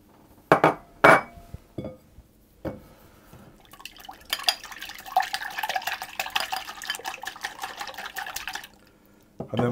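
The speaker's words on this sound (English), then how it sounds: "I'm going to whisk those to get them combined." Whisking vanilla extract and melted butter together in a bowl for coconut tarts: a few sharp clinks and taps, then several seconds of steady, rapid scraping and clattering of a whisk against the bowl, close and fairly loud.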